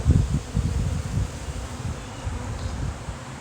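Nurse honey bees festooning on drawn wax inside a hive just expanded from a four-frame nuc to eight frames, giving a steady low buzzing hum, fairly close and even, slightly stronger at first, with no voices.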